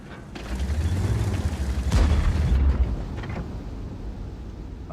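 A tank shell strikes enemy armor in World of Tanks, a heavy booming impact with deep rumble swelling midway over steady mechanical engine drone, fading afterward; no speech.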